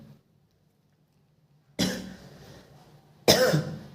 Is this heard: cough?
yes